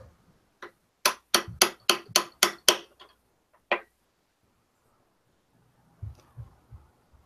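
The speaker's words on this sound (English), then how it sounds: "Drive the rest in with a punch" A hammer strikes a punch to drive a pin into an AR-15, giving a quick run of about seven sharp metallic taps, then a single stray tap, a pause, and a few softer knocks.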